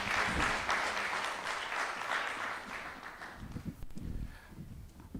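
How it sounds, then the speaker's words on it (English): Audience applause after a speech at a conference, a broad wash of clapping that fills the first few seconds and then thins out as a voice begins speaking over the fading claps. "A big round of applause,"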